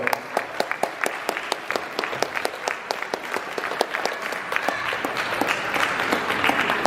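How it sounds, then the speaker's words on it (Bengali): Audience applause for children and dancers gathered on stage at a Rabindra Jayanti cultural show: dense, steady clapping from a crowd with sharp individual claps standing out, continuing without letup and no talk. "A big hand for all of you."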